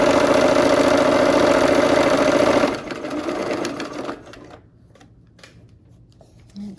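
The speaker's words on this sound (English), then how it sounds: "here we are at the machine. We're gonna sew this last seam for the block." A sewing machine stitches the final seam of an O Christmas Tree quilt block, a loud, steady mechanical whirr for about two and a half seconds, then slowing and stopping into faint handling clicks.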